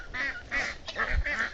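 A flock of ducks, small ones ahead and large ones behind, quacking repeatedly as they move along a village road toward a marshy lake, four close, raspy calls in a rapid series.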